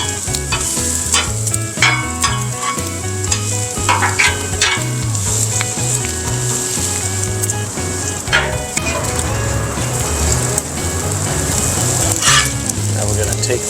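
Onions and bacon fry on a flat griddle for smash burgers, giving a loud, continuous close sizzle with scraping and clacking of a spatula as the onions are stirred, while a person talks intermittently.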